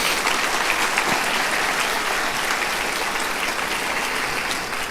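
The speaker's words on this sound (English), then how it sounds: "Please give yourselves one more round of applause" A roomful of people at a public education awards evening gives one more round of applause, dense steady clapping at moderate volume, sustained and even, with no speech over it.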